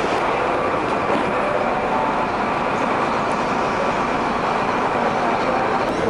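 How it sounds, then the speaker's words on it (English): Rumbling train noise at a railway station, a loud, steady low roar of rolling carriages without breaks, close and continuous with no voices. "I'm here at the train station."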